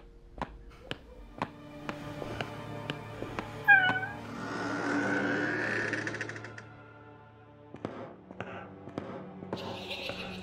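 A cat meows in the horror game Life Is A Nightmare: a short, clear, close meow mid-clip, set among regular clicking taps and a low game-ambience hum.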